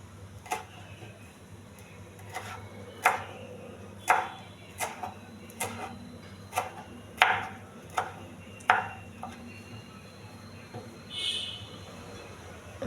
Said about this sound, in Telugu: కొత్తిమీర కూడా చిన్నగా కట్ చేసుకోవాలి.